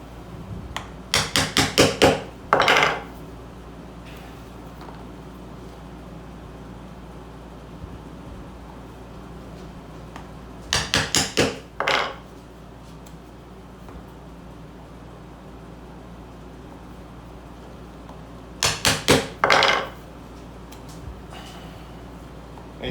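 A hammer strikes a chisel to punch stitching holes in a leather knife sheath, delivered in three separate bursts of four or five quick sharp taps, each followed by a brief scrape, with quiet pauses between bursts.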